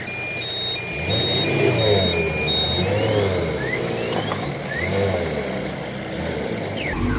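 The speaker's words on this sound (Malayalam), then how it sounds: "അപ്പോൾ വണ്ടി ഗോഡൗണിൻ്റെ ഉള്ളിലേക്ക് ഇങ്ങനെ പാർക്ക് ചെയ്യണം കേട്ടോ." A vehicle's engine runs at a moderate, steady level while it parks inside a godown, with a series of short, evenly spaced electronic beeps sounding over the motor.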